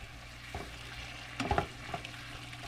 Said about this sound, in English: Just let that simmer on low.